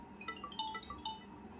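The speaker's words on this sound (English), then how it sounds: "this ringtone I will select here" A soft electronic ringtone melody of bright chiming notes plays faintly from an Infinix Hot 30i phone over a steady background hiss.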